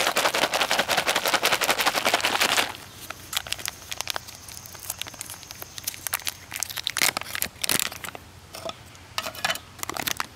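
A zip-top pouch of MRE cocoa beverage powder mixed with water is shaken hard, giving a dense, rapid crinkling rattle for about two and a half seconds. Scattered softer plastic crackles and taps follow, close and without talking.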